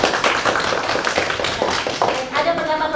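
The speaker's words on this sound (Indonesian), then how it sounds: "Tepuk tangan dulu buat Pak." A university class claps hands in a short, uneven burst, with talking mixed in as the applause tails off.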